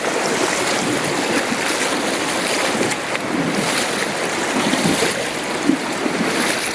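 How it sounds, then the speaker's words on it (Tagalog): Water from a mountain stream flows in a countryside province with a steady broad rush, and gusts of wind buffet the microphone over it. "Tinaw ng tubig, no? Ano talaga, tignan mo. Agos ang galing bundok."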